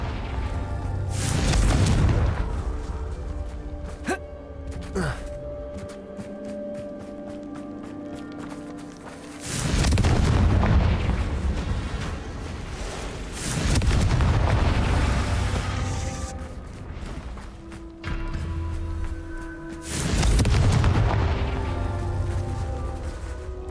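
Confringo blasting spells go off in a Hogwarts Legacy wand battle, several heavy booming bursts a few seconds apart over a constant game rumble.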